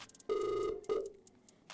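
Telephone ringing indoors, two distinct rings separated by a short gap, with a clear electronic tone, moderately loud and heard alone without talk.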